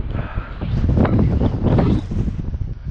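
Strong desert wind in Al Kharrara, Qatar, rises and falls in gusts that buffet the microphone during a mountain-bike ride, loud and close, with no voices.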